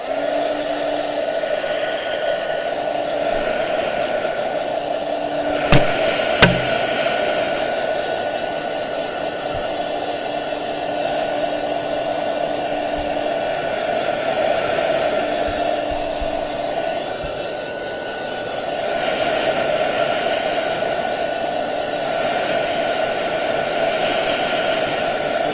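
Hair dryer blowing steadily on a painted rock for about twenty-five seconds, a continuous close whooshing drone with a brief clunk midway and a slight dip in level near the end.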